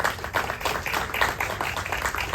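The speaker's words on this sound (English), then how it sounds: "Let's give her a round of applause and thank her for joining us." Audience applause for a speaker at an event, a dense, steady wash of many hands clapping at close range, sustained throughout with no talk over it.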